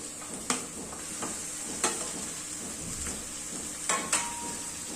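Chicken pieces fry with ginger garlic paste in a pan, making a steady close sizzle broken by a few sharp metallic knocks of a spoon against the pan.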